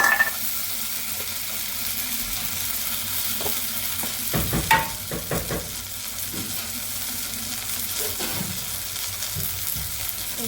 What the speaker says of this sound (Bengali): মশলাটা কষে নিচ্ছে